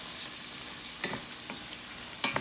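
Diced carrots and celery frying in a pot for a vegetable soup with tofu give a constant hiss, with a few light stirring scrapes and taps near and in the foreground.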